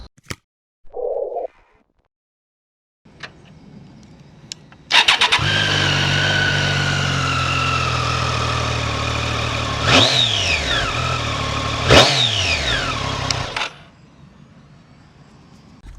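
A Triumph Street Triple S 660cc motorcycle engine cranks and fires up after a few clicks, settles into a steady close idle, then gets two sharp rising revs before shutting off.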